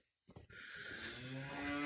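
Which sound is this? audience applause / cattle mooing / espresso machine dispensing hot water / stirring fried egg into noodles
cattle mooing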